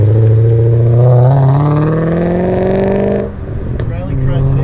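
BMW E39 M5 with bolt-on modifications accelerating hard, a loud, rising engine drone heard close up that climbs steadily for about three seconds before easing off, with a voice briefly audible under it.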